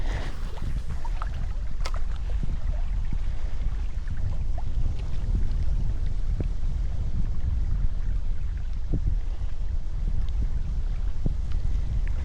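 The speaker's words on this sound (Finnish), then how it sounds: "Täällä vähän tuulee." Wind blowing across a lake during a fishing trip, continuous low rumbling gusts buffeting the microphone with faint water lapping, steady and close with no talk.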